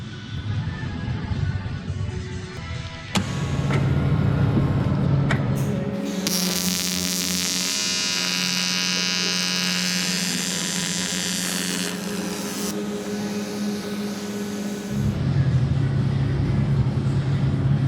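A welding machine without AC settings runs on an aluminum skid plate for an F150, giving a loud, sustained buzzing crackle with a few brief stops and restarts and no talk.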